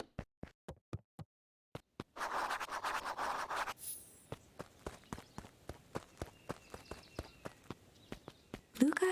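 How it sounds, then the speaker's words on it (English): Several characters' footsteps approach in the video game Beacon Pines, a steady run of crisp, evenly spaced steps with a brief scuffing rustle in the middle, rising closer and louder toward the end. "Luca heard a group of footsteps approaching"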